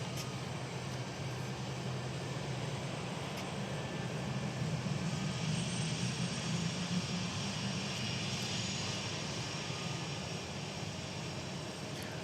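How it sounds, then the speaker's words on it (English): A Boeing 757 jet airliner at DFW Airport rumbles steadily throughout, a loud, sustained engine roar with no talk over it. "here comes that sleek Boeing"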